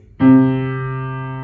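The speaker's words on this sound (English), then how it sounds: "So that's what you heard there were things called beats." A single sustained piano note struck once, ringing with a slow wavering pulse as two slightly mistuned strings beat against each other while it fades.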